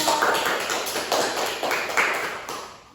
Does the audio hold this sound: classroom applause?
yes